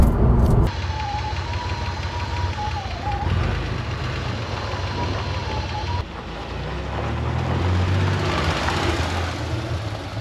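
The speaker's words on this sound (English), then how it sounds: "Pulls strong in every gear." A Porsche 964 Carrera 4 911 with a freshly installed engine and gearbox drives on a test drive. The engine hum and road noise stay steady with a faint whine, and the engine note shifts partway through.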